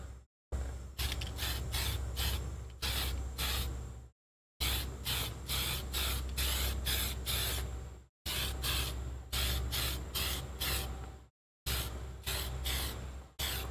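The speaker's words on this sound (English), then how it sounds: "just keep spraying multiple coats until that area seems to be covered well" An aerosol can of spray paint hisses in several long bursts separated by short pauses, each spray steady and close, with a rattling pulse running through it, while coating a Traxxas Stampede RC monster truck body.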